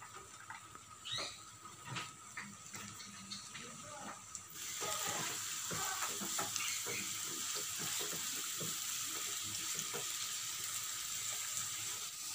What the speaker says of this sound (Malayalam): നമുക്ക് ഉള്ളി ഒന്ന് ഫ്രൈ ചെയ്തെടുക്കാം.